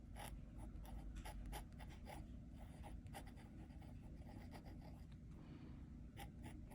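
A fountain pen with a Fude nib writes on Tomoe River paper in the Hobonichi, giving faint, close scratchy strokes in short irregular bursts against quiet room hiss.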